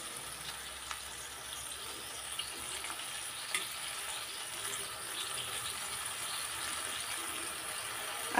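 Water poured onto salt, coriander powder, chili powder and turmeric in a hot pan gives a steady, quiet, close frying sizzle with faint bubbling and occasional small pops, and no talking.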